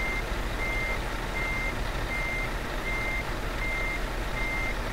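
Truck reversing alarm in Euro Truck Simulator 2 multiplayer, steady evenly spaced beeps repeating about every three-quarters of a second over a constant engine rumble and road noise, loud and continuous.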